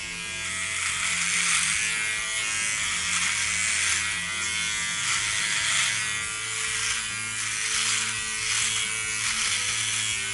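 A Philips Norelco OneBlade electric trimmer buzzes steadily while shaving hair, a close, continuous hum whose pitch wavers slightly as it passes over the skin.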